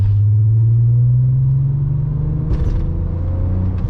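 Interior drone of a Nissan R32 driving along a rough road, a steady low engine hum with slowly rising pitch and a brief rattling bump partway through.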